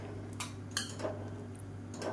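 Metal utensil scraping and clinking against a cooking pot while egg noodles and vegetables are stirred, a few faint light clinks over a low steady hum.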